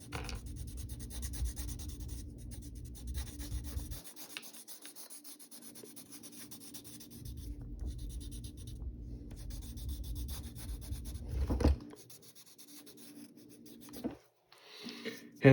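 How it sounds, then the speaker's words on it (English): A pencil held on its side shades a drawing on paper, with soft, steady scratchy rubbing in long strokes, a pause, then more rubbing and a short final scrape, close and fairly quiet. "Just take the side of your pencil."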